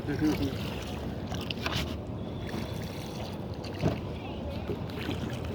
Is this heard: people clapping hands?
no